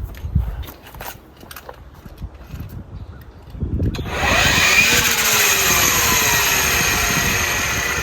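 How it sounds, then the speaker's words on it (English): After some faint handling noises, an Ego battery-powered brushcutter attachment spins up and keeps whirring loudly and steadily with its metal blade whipping around, close to the listener. "It's got some torque to it because it's whipping around the metal blade"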